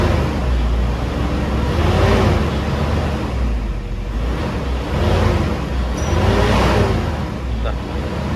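A Toyota Innova with a 2KD diesel engine is revved while standing still with no load, its rough, loud rumble swelling and easing in two or three broad waves under a talking voice.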